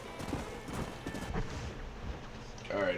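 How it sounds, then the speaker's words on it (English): Horse hooves clip-clopping at speed in the video game Red Dead Redemption, steady rapid hoofbeats close and loud with game ambience and a brief whinny-like tone near the end. "My horse shot off! Slow down!"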